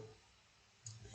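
A single sharp mouse click on a program button in a visual programming application sounds right at the end, after a near-silent pause.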